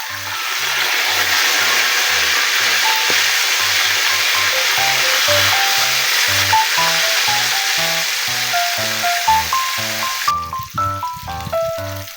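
Tilapia frying in hot oil, a loud steady sizzle and crackle that continues the whole time, heard alone with music playing over it and the hiss cutting off near the end.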